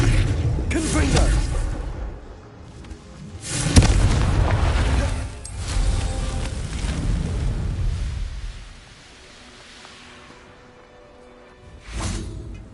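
Confringo fire spell blasts in Hogwarts Legacy, several booming explosions with whooshing bursts that swell and fade over a few seconds each, loud and close.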